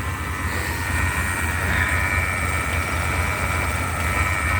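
A 1981 Chevy K10 truck engine running steadily at fast idle with the hood propped open, a constant loud rumble with a smooth drone and no breaks.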